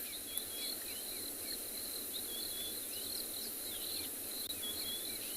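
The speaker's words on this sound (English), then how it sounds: "there's far more insects that are starting to fly around. I can hear a few buzzing around my head." Crickets and other insects trill steadily through a South African savanna evening during an afternoon safari, with faint bird chirps scattered over the constant, moderately distant chorus.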